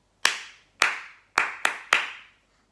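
Hands clap a short rhythm in a body percussion workshop: five sharp, close claps, two evenly spaced, then a quicker group of three, each with a brief ringing decay and no talk.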